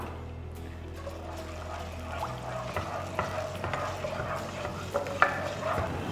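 Ginger garlic paste and a little water cooking in a hot pan on a gas stove, giving a steady, close sizzle with stirring scrapes and a few sharp clicks, heard alone without talk.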